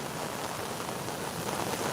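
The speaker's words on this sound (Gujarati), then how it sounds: "આ ભારે અતિશય ભારે મુસળધાર વરસાદને કારણે" Dense, steady monsoon rain pours down near the Purna River at Waghai in the Dang district in a continuous hiss, even and unbroken, with no voices.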